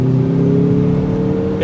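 Turbocharged engine of a 2023 Mazda CX-50 Meridian Edition pulling hard under acceleration, a steady loud mid-pitched drone with rising harmonic tones, continuous and close throughout with no talk.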